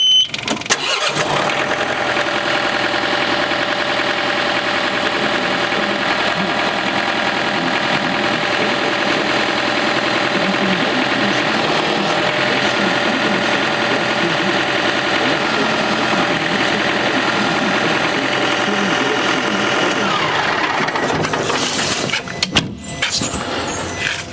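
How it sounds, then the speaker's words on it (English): A John Deere 440R loader tractor engine cranks over and catches within the first second, then runs at a steady, loud, close idle for about twenty seconds before cutting off, with some clunking near the end; no talk. "let's just crank the tractor up and see"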